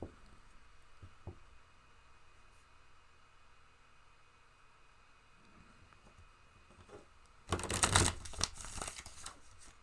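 A deck of tarot cards riffled and bridged close by, a loud burst of papery flutter and snapping near the end after a long stretch of faint room hiss.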